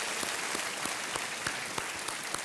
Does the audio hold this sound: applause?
yes